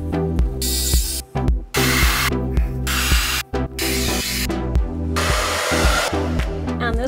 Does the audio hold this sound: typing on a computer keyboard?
no